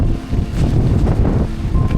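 Cold wind blowing in a rainy, misty hill setting near Charlotte Lake in Matheran, a steady, loud broadband rush buffeting the microphone throughout with low gusty rumble and no talk.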